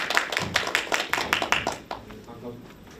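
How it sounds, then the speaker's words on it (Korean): Scattered applause from a small audience welcomes a speaker at a labor-rights discussion forum, with a few distinct claps at first, then thinning and fading out after about two seconds. "박수로 모시겠습니다."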